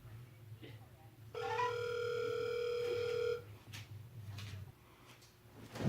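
A steady electronic phone call tone sounds for about two seconds, loud and sustained before it cuts off, with faint background noise around it.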